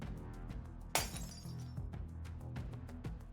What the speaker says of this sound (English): Sound of the glass structures breaking.